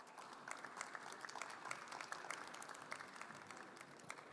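Faint applause from the audience at a startup conference in Korea, with many hands clapping steadily at a distance and scattered louder claps throughout.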